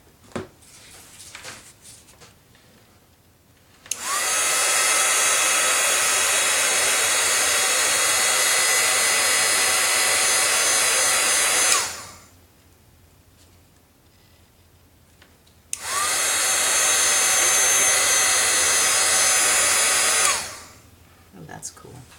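A heat tool blasts a loud, steady airflow over embossing powder at a craft desk, running in two long bursts of several seconds each with quiet pauses between.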